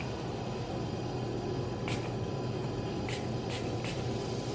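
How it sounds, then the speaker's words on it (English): Several quick hisses of a hair milk spray bottle misting onto hair, short bursts in an uneven sequence, close up over a steady background hum. "I'm gonna spray some."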